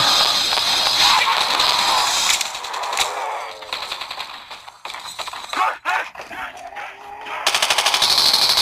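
Rapid bursts of automatic gunfire in the Call of Duty Mobile zombies mode, loud and close, broken up with short pauses and single shots, mixed with crashes and other game effects.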